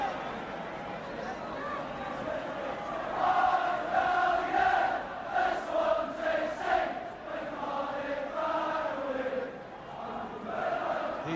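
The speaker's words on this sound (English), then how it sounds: "The Swansea crowd really making their presence felt here as Edvaldsen takes this throw. Really making a good noise." The Swansea football crowd roars and cheers at a 1981 Wales versus Iceland World Cup qualifier as Iceland take a throw-in, a broad swelling noise from the stands under a commentator's steady talk.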